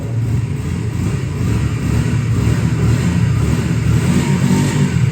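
Honda VT 125 Shadow from 2001 on its stock exhaust, engine running close by with steady, rough low rumble and small rises in revs throughout, no voices over it.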